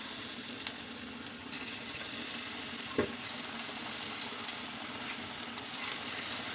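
A second batch of potato, onion, green coriander and green chilli pakoras fries in hot oil, giving a steady close hiss with occasional crackles and a faint clink of a stirring spoon, and nobody speaks.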